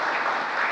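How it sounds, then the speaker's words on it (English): A crowd at a presidential speech on the Inflation Reduction Act anniversary gives a short, dense burst of clapping that fills the moment evenly. "led by the great Chuck Schumer, you'll get a chance to applaud him"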